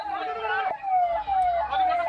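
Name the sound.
ambulance siren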